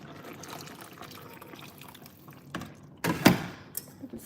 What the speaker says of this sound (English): Gonna add a little bit more water to the soup.